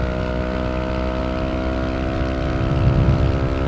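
A motorcycle fitted with a Villan SR1 exhaust holds a steady high rev around 7000 RPM, a loud, continuous droning tone close by with no talk.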